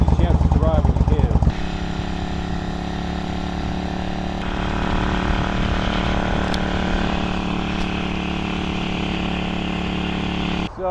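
Steady, droning engine of a Suzuki S50 motorcycle while riding, heard up close for several seconds after a short burst of talk at the start, holding a constant note with minor shifts.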